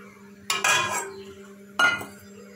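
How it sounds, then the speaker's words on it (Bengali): A metal wok set down on a kitchen stove with two sharp clanks about a second apart, each ringing briefly over a quiet background hum as oil goes into the hot pan. "কড়াই বসিয়ে দিচ্ছি, কড়াই গরম হয়ে গেছে, আমি এখন তেলটা দিয়ে দিলাম।"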